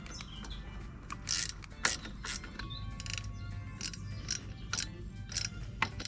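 A wrench tightens the nuts on a Doppler ER1 exhaust, giving short metallic ratcheting clicks and scrapes in irregular bursts, fairly close and moderately quiet.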